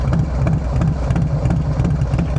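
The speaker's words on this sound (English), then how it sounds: "let's let you guys hear this bike first, because it just sounds so damn good." A Harley-Davidson Low Rider ST with a 131 engine, Cyclorama 483 cam and aftermarket exhaust idles close by, a deep, steady, loping rumble with an even pulse and no talking.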